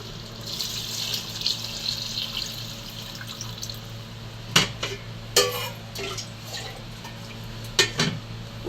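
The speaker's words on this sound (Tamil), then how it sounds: "தேவையான தண்ணி ஊற்றிக்கிறேன்." Water is poured into a cooking pot while beef soup is being made, running steadily under clinks of metal utensils and dishes, with a few sharp knocks later on and no talking.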